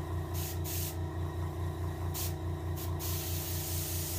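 Bursts of airbrush spray hiss, a few short pulses over a steady low mechanical hum from a nearby compressor, while painting a hybrid striped bass for taxidermy.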